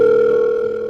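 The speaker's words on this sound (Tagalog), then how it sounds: "Nagre-ring naman." A steady electronic phone tone plays close and loud without a break, the ringback heard while calling a cellphone.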